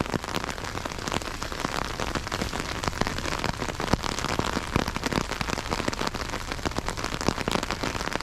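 Steady rain falls outdoors, a dense, continuous patter of drops hitting surfaces close by, constant in intensity with no voices.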